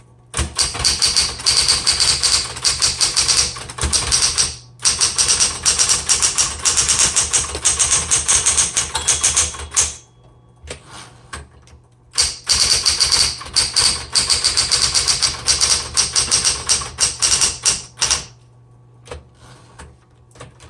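A 1960s Smith Corona Electra 110 electric typewriter rapidly striking repeated X or dash keys to overtype a mistake, loud mechanical clattering bursts with a constant motor hum beneath and short pauses between runs.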